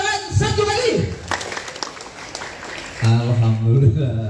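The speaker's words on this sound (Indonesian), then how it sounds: "Tepuk tangan 1 kali." An audience at a school orientation event at a junior high in Tangerang gives a single short burst of clapping together, set between stretches of loud amplified speech.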